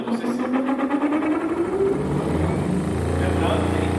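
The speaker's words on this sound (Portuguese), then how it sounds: "vou acelerar o motor de indução para acionar o eixo do gerador" An induction motor spins up to drive the shaft of a DC generator, its tone rising steadily as the machine gains speed before settling into a steady mechanical hum.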